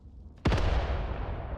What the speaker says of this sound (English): we can hear our own mortar actually silencing the enemy mortar emplacement back here.